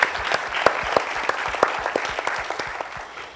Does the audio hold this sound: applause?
yes